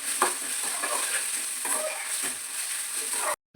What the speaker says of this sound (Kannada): ನೀಟಾಗಿ ಕಲರ್ ಚೇಂಜ್ ಆಗೋ ತನಕ ಫ್ರೈ ಮಾಡ್ಕೊಂಡು ಸಾಕು